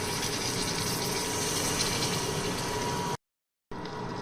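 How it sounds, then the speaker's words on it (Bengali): Water pours steadily into a pan of frying garlic for loitta shutki (dried Bombay duck) bhuna, a continuous gushing stream that cuts off briefly before resuming. "এখন দিয়ে দিব সামান্য পানি"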